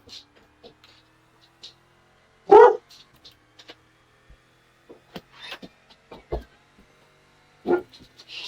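A dog barks once loudly and nearby, followed by scattered faint clicks and rustles in an otherwise quiet room, with a second softer bark near the end.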